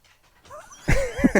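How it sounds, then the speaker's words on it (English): Dogs making soft whimpering, panting sounds, faint at first and then louder with short yelping whines near the end. "The dogs."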